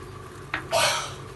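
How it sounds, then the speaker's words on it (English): A spoon stirs spiced white sauce macaroni with chili flakes and oregano in a pan, giving a brief scrape and then a longer, louder scraping swirl, close by and alone. "Let's just stir it off. Let's stir it well."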